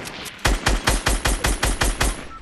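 Rapid automatic weapon fire in Fortnite, about eight evenly spaced loud, punchy shots in a steady rhythm after a brief quiet start, with no voices over it.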